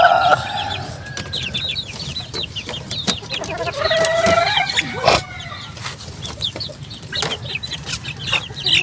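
A flock of white Kelso gamefowl chickens clucks nearby with repeated calls, brief wing flapping and a rooster crowing, all over steady outdoor farmyard background noise.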